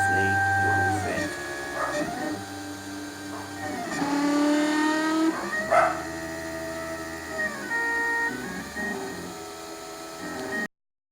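A 3D printer printing a bracket, its stepper motors whining in shifting tones with steady hum and changing pitches, close and continuous until cutting off.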